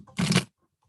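A single short riffle of tarot cards being shuffled, a brief papery burst close by, then quiet.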